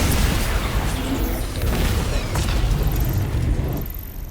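A destroyed asset explodes in the video game Exoprimal, giving a loud, sustained rumbling boom with crackling debris that lasts several seconds before tapering off, with no talking.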